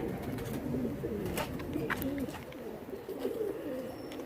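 Pigeons of different breeds coo softly nearby in a series of low, throaty rolling calls, with faint chirps and light background noise.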